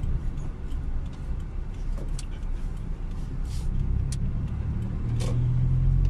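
Passenger car driving on a city street in Częstochowa during a driving test, a steady engine and road rumble heard from inside, growing slightly louder toward the end, with occasional faint clicks.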